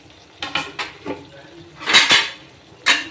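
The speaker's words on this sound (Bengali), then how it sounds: "এবার পটলগুলো দিয়ে দিলাম" Pointed gourd pieces drop into a pan of poppy seed paste with a few sharp clatters and scrapes of a metal utensil against cookware, over a faint sizzle.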